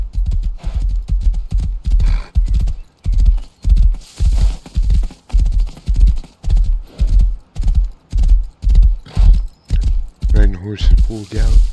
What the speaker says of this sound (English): Riding a horse at full gallop.